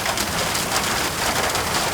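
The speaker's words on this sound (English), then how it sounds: "it is raining right now." Steady rain patters densely on a surface, a continuous hiss with no voices.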